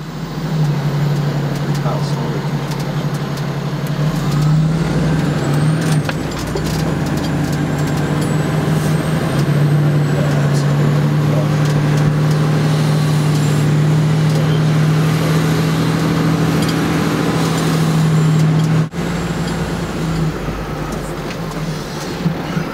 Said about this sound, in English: This truck is 47 by 11 feet.